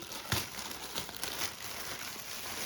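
Plastic bags from a parcel crinkle and rustle while being unpacked, soft irregular crackling bursts close by with no talking.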